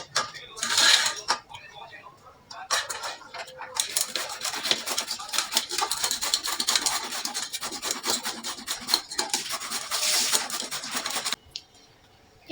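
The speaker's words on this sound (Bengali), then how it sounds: "কাটার মেশিন, এইটা আমি একটু আমগুলো কুচিয়ে নিব ভালোভাবে।" A cutter chops raw mangoes in a steady, busy run of scraping, rasping clatter with metallic rubbing, fairly loud and close, continuing for most of the stretch before stopping near the end; no one talks.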